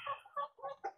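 A chicken of King Arthur and Dumbo bloodline clucks close by in four quick bursts, each a short, throaty cackle with brief pauses between.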